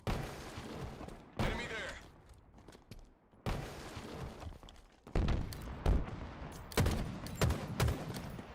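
Gunfire in a Halo multiplayer capture-the-flag match pops out in separate bursts and single thuds, fairly quiet and mixed with game sounds and some talking.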